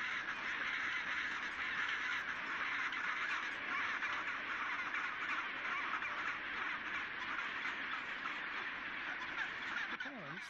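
A noisy penguin colony fills the air with a dense, continuous wash of overlapping squawks and calls, steady and loud throughout with no pauses, many birds calling at once.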